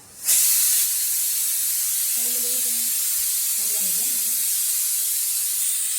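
A pressure cooker on a Kerala kitchen stove cooking buffalo curry gives a sudden loud, sustained hissing jet of steam that continues steadily, with a voice briefly speaking underneath.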